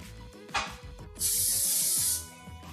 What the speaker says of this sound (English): I'm gonna set it down and then spray the other side once I get it in.